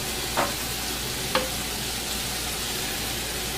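Meat fries in a pan with a constant close sizzle, broken by two brief sharp clicks of a utensil touching the pan, no talking.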